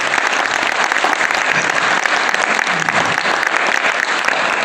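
An audience at a literary evening in Salyan applauds continuously, dense even clapping from many hands, loud and close throughout with no pauses.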